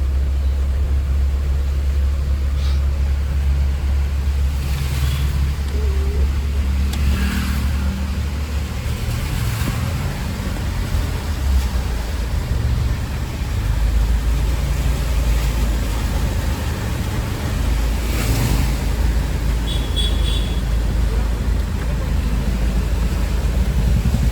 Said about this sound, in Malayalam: പയ്യെ പോകാൻ പറ്റത്തുള്ളൂ. വേറെ വണ്ടിക്ക് വെള്ളം തെറിച്ച് വരും.